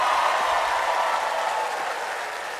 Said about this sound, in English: Rotarians, come on, where is your applause?